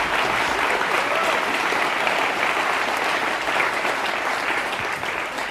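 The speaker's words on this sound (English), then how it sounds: "applaud if you want to" Studio audience applause at a UK improv comedy show: a dense, steady wash of clapping that holds at an even level for several seconds, with no voices over it.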